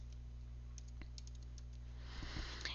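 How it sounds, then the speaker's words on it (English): Typing on a computer keyboard, a few faint scattered key clicks, then a quicker burst of keystrokes near the end, over a low steady electrical hum. "I'm just going to type in important, and I'll just do it in caps."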